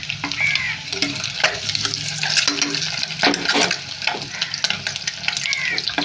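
Eggs frying in a generous amount of oil with turmeric, a busy continuous crackle and sizzle broken by repeated clinks and scrapes of a spatula in the pan; no talking.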